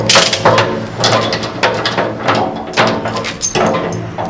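A ratchet chain tensioner on a truck load is worked loose, giving a run of loud, close metallic ratchet clicks and clanks in uneven bursts, with chain rattle between strokes.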